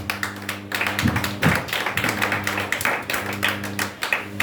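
A church congregation clapping together in a brisk, steady rhythm, close and fairly loud, with a few heavier claps standing out and a sustained tone ringing underneath.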